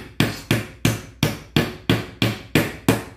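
Canvas staples being pushed in with a large chisel on a stretcher frame, eight sharp evenly spaced knocks about a third of a second apart, loud and close with each one decaying quickly.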